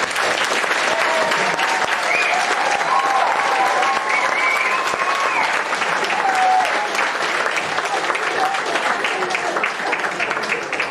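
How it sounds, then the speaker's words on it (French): Sustained audience applause fills the room at a French-language stage show, a dense, steady wash of clapping lasting the whole stretch with a few faint voices and cheers mixed in. "vos applaudissements pour nos deux comparses Francis et Luc."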